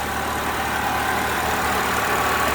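A 2012 Chevrolet Malibu with a 2.4 engine, just fitted with a new exhaust manifold, idles steadily at close range with an even hum and no talk over it.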